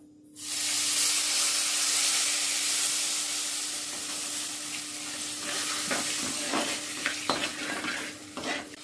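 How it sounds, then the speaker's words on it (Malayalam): Vinegar hits hot oil with a loud, sudden burst of sizzling hiss that carries on steadily, with clattering stirs toward the end, while making mint pickle. "പെട്ടെന്ന് തന്നെ ഈ എണ്ണ ചൂടായിരിക്കുന്നതുകൊണ്ട് പെട്ടെന്ന് തന്നെ ഇത് വഴണ്ടിട്ട്. അപ്പോൾ വിനീഗർ കുറച്ച് ഒഴിക്കുന്നുണ്ട്."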